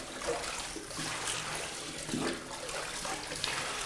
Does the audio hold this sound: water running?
yes